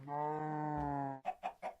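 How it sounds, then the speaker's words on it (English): Blocky video-game chickens on a Minecraft animal farm cluck in a quick series, one long nasal call followed by several short, evenly spaced clucks, clear and close. "Holy crap, there's a lot of chickens now."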